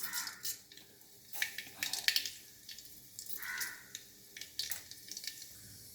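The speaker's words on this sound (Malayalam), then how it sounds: "ഇനി നമുക്ക് കടുക് ഇട്ട് കൊടുക്കാം." Mustard seeds hit hot oil and splutter in irregular, close crackling bursts that flare and fade over a steady low background hiss.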